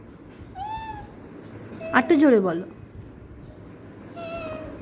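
A baby boy imitates a cat's meow with short, high, wavering vocal calls, while an adult voice prompts him loudly in between.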